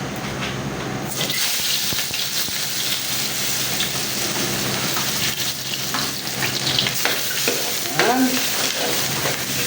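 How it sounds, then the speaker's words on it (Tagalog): Garlic and onion hit very hot oil and sauté with a loud, bright crackling sizzle, interrupted by clattering stirring and scraping in the pan; a voice speaks briefly. "magigisa na tayo ng ating bawang at sibuyas"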